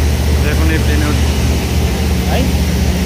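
Airliner engines drone in a constant loud, low roar at the boarding area, with a brief voice or two heard faintly beneath the noise.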